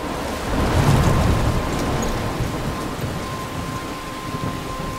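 Thunderstorm with steady heavy rain in the video game Life is Strange: Before the Storm, a continuous broadband downpour with a low rumble of thunder swelling early on, loud and unbroken throughout.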